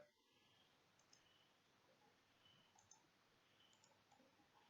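Computer mouse clicks sound during AutoCAD drafting work, a few faint, sparse taps spread over quiet near-silence, with one sharper click at the end and no talking.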